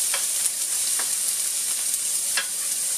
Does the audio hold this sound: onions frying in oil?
yes